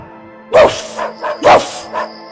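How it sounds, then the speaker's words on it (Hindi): A big dog gives two loud, deep barks about a second apart, with softer yips and whimpers after each one. It is a sound effect in an Urdu telling of the ugly duckling story, with no one speaking over it. "अचानक एक बड़ा सा कुत्ता वहाँ आ गया।"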